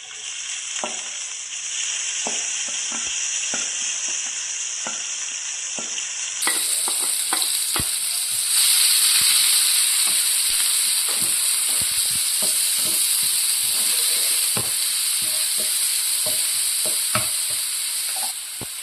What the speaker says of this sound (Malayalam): സവോളയും പച്ചമുളകും നല്ലപോലെ വഴറ്റിയെടുക്കണം